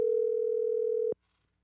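A steady telephone dial tone, loud and clean, holding for about a second before cutting off abruptly into near silence.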